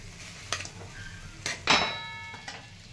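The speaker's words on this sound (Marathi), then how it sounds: "आता हे भात छान आपल्याला मिक्स करून घ्यायचं आहे" Leftover cooked rice being stirred and mixed in a pan for a breakfast dish, with a spoon knocking and scraping against the metal in a few separate clinks, one louder ringing strike, over a faint low background.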